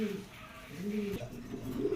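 Pigeons at a farm of fancy high-flying racer birds, male and female together, giving soft low rolling coos close by, several overlapping calls in quick succession with faint background noise.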